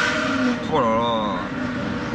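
Loud engine roar from a rare Porsche 911, a rising revving sweep near the middle over steady rumble, while people talk excitedly in French.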